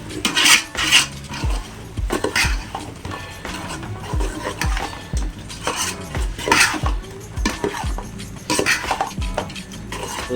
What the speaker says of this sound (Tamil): நல்லா பரட்டிக்குங்க